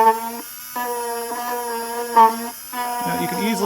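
A MulWark cordless rotary tool turned up to 18,000 RPM hums with a steady high-pitched electric whine, dipping briefly twice, with a rougher grinding edge near the end.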